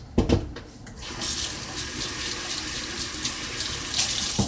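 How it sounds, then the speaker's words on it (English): Tap water runs steadily into a sink while hands are washed in a home kitchen, a continuous close splashing hiss after a few brief knocks at the start. "let me wash my hands"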